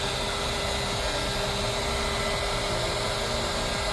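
A heat gun blows hot air around the edge of a GoPro Hero9/10 ND filter frame, a loud, steady, unbroken roaring whoosh close by with no other sounds.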